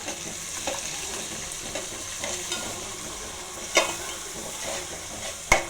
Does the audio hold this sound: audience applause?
no